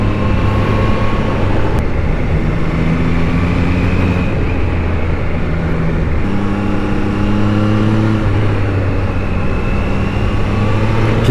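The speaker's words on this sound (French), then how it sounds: "vous pouvez apprécier le son de la moto" A loud, continuous engine drone with shifting pitch, heard from on board a moving Triumph Trident 660 motorcycle, with steady wind roar throughout.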